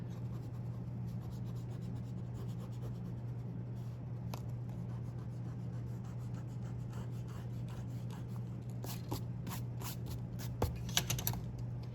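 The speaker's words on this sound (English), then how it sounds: "I'm going to erase the construction lines I don't need." A pencil eraser rubbing away construction lines on a paper perspective drawing, heard as quiet continuous scrubbing with a few sharper brushing strokes near the end over a faint hum.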